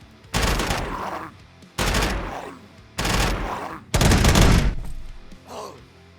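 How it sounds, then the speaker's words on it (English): Burst-fire gunshots in the Quasimorph video game, four loud bursts of rapid shots at a steady rhythm with brief gaps between them, close and dominant. "Go up to burst fire."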